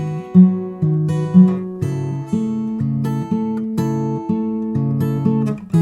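Plucked acoustic fingerstyle guitar plays double-stop pinches in a steady, repeating pattern, each pinch ringing clearly and close.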